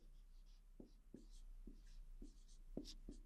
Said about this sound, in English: I'll write it here.